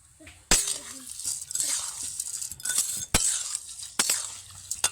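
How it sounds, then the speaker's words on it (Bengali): A spoon stirs semolina pilaf balls with raisins and fried cashews in sugar syrup in a pot, giving sharp metallic clinks and scrapes at irregular intervals between softer sloshing stirs. "চিনির শিরাটার মধ্যে ভালোভাবে এটাকে নেড়ে দিয়েছি।"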